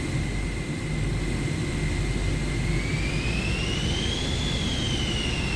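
Airliner jet engine running steadily just after start in Microsoft Flight Simulator 2024, a loud constant roar with a high whine that climbs in pitch partway through, no speech.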